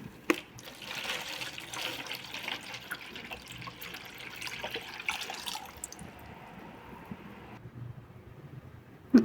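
Water poured into a container to prepare a litre of solution for treating rotting orchid roots, a steady quiet trickle with small clinks, fading near the end.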